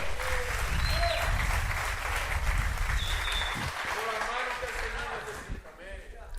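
A church congregation applauds in honour of the Lord, a fairly soft, dense round of clapping that fades near the end as voices start to come through.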